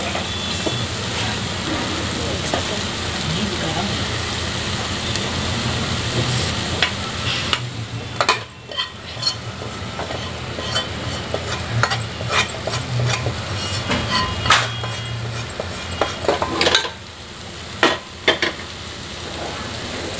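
Masoor dal being stirred in a metal pressure cooker, with scraping and clinking against the metal over a steady background hiss, some sharp knocks near the end.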